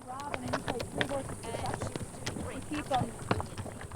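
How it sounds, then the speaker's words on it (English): Horses carrying riders climb a mountain trail, their hooves striking in an uneven, repeated clip-clop close by, with people talking over them. "Glad the horses are doing the hiking, and we stop now and then to give them a breather."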